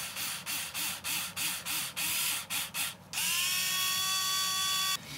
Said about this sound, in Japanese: ここのところに、DS24 のネジでネジ山を作っておきます。